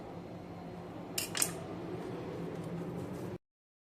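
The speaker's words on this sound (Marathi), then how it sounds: "आता असं कापून घ्यायचं, छोटे छोटे गोळे करायचे" A knife cuts soft urad dal papad dough into small balls, giving one brief clatter of blade against the surface over a quiet, steady background hum.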